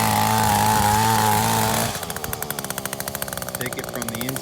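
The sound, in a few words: power tool cutting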